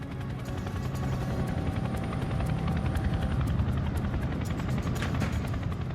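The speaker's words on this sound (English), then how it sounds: "The Chinook arrives in Scottish airspace." A CH-47 Chinook twin-rotor helicopter flying in over Scotland, its heavy rotor thump and turbine whine loud and steady throughout with no voices.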